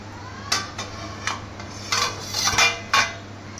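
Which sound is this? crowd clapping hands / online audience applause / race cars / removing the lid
removing the lid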